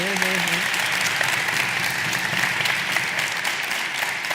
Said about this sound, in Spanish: Un aplauso para nuestro público maravilloso.